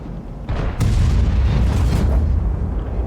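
An SPG artillery shell fires and lands in a tank game, a deep heavy boom followed by a sustained rumbling roar, loud and close, with no speech.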